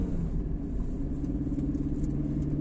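A car rumbling along steadily during a driving lesson, just after a gear change, with a low, even engine drone heard from inside the cabin.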